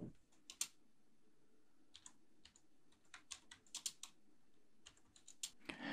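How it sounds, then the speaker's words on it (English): Computer keyboard typing of a terminal command to update Ubuntu, with bursts of close, crisp key clicks in uneven clusters and short pauses, no talking. "you'll just type this command and that will update your Ubuntu"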